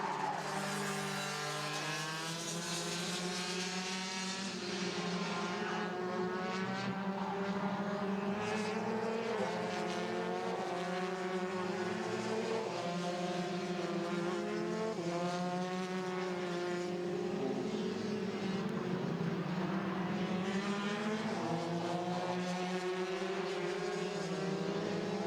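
Rotax DD2 racing kart engines whine and buzz continuously during a race, several high-revving two-stroke motors overlapping and shifting pitch as the karts pass, loud and sustained.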